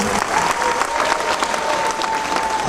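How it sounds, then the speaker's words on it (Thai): An audience applauding for a father at a school event, a steady dense wash of clapping that fills the whole stretch at fairly close range, with a faint sustained tone and crowd murmur beneath. "ขอเสียงปรบมือให้คุณพ่ออีกสักครั้งได้ไหมคะ"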